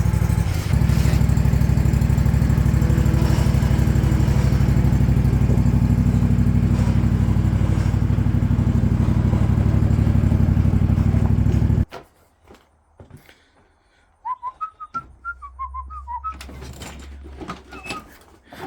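Loud, steady engine drone of a riding lawn tractor with a mower deck as it backs out of a cramped shed, running continuously for about twelve seconds, then cutting off into quiet knocks, clunks and a faint squeaky tone.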